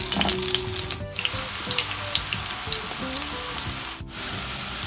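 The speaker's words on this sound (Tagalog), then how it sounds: "ipiprito na natin yung ating patatas at yung ating carrots hanggang magkaroon lang ng konting browning" Potatoes and carrots frying in oil in a pan, a steady loud sizzle with brief stirring knocks and clatters, alongside faint background music.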